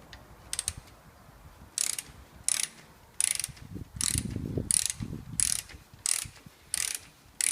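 A ratchet clicks in bursts of rapid pawl clicks separated by pauses while a stiff bolt is turned on the front brake of a Citroen C2 1.1, close and fairly loud with some low mechanical knocks.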